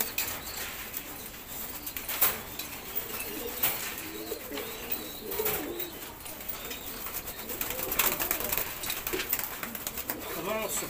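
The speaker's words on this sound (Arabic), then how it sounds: "حمام عظمه قصير، حمام عظمه طويل" Soft cooing from short-beaked and long-beaked pigeons in a loft repeats through a steady, busy background of rustling and faint voices, with occasional flutters and clicks.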